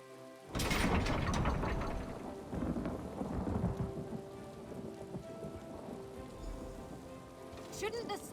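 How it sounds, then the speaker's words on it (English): A thunderstorm with rain in The Elder Scrolls video game: a sharp thunderclap crashes in, then fades into a rolling rumble over steady rainfall. "How often are we going to see a tempest like this in one lifetime?"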